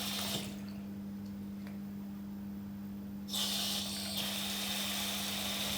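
Tap water runs into a sink as someone rinses an injured hand, a steady hiss broken by a quiet gap and then a louder rush of flow.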